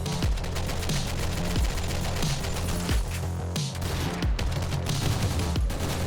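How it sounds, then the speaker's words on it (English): Rapid machine gun fire from the video game OTXO, a dense, continuous rattle of loud shots with deep booming thuds recurring about every half second, all close and unbroken by talk. "I enjoy a cool LMG or really any machine gun"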